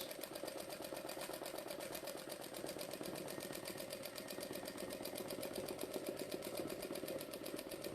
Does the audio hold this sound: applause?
no